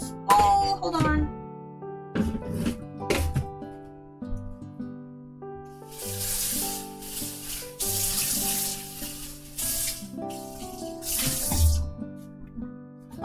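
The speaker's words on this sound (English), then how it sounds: "Wash this bowl." A tap runs while a bowl is washed in a kitchen sink. Water splashes in bursts against the bowl, and a few clinks and knocks come over a hum and faint background music.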